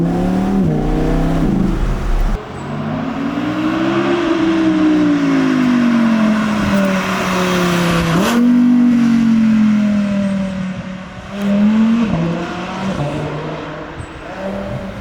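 An Audi R8 engine revs up and down repeatedly, roaring loudly and close by with rising and falling pitch.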